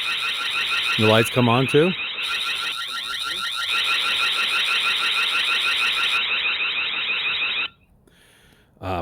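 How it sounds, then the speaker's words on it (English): A shrill, rapidly pulsing electronic alarm from a TP-Link Tapo C425 security camera rings steadily for several seconds, with a person speaking briefly over it before it cuts off. "you can hear the alarm over here."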